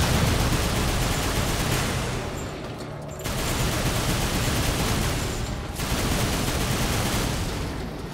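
A powerful gun in the video game Darksiders 2 fires a dense, loud, continuous barrage that dips briefly twice before roaring on.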